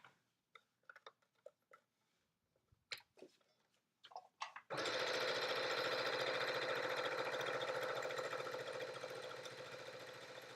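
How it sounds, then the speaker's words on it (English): After a few soft clicks and handling taps, a sewing machine starts up and runs steadily along the seam of a Yup'ik makeup bag, a close, loud, continuous whirring that holds to the end. "I'm just going to sew this, and then I'll trim that excess off."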